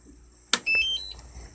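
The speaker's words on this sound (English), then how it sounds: "it kind of beeps for a second like that until you turn the controller on." A DJI Phantom 3 Standard drone, powered on before its controller, gives a sharp click followed by a short series of high electronic beeps, close and clear in a quiet room.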